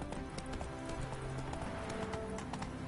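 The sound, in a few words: horse Roach galloping, hooves clip-clopping, The Witcher 3 (video game)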